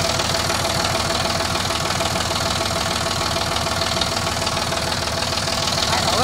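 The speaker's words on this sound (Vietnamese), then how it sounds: "Máy nổ rất yên rồi con." A Linde 2-ton diesel forklift, three-cylinder engine, idles steadily and close by, a smooth continuous low rumble with faint knocking pulses and no voices over it.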